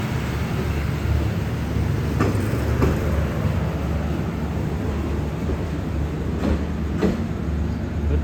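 An express train pulls out of Surat Thani station, heard from inside an air-conditioned second-class car as a steady loud rumble of wheels on track with occasional rhythmic clunks over rail joints.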